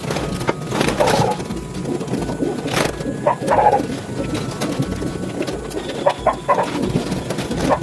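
Hen pigeons in a crowded loft give low, intermittent coos amid sharp bursts of wing flapping and clattering movement, all close and fairly busy.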